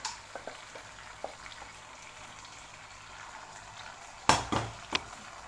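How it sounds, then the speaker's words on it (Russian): Pasta being stirred in a frying pan while it toasts golden: a faint, steady sizzle, then a few sharp scrapes and clinks of the utensil against the pan near the end. "И все это дело перемешиваем, чтобы у нас макарошки получили такой золотистый цвет."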